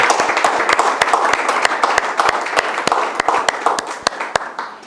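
A crowd applauds steadily at a graduation ceremony, dense clapping with sharper individual claps standing out, sustained throughout before thinning slightly at the end.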